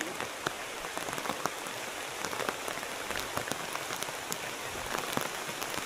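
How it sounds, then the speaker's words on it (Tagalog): Heavy rain pours steadily in a forest, with dense patter and scattered sharper drops striking a surface up close; no one speaks. "Todo na ang ulan oh."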